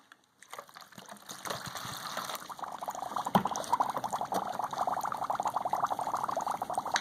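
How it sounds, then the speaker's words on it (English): Water poured over a large piece of dry ice sets off a steady, bubbling gush that builds after a brief quiet start and keeps churning loudly and evenly. "Maybe get some more water poured in there."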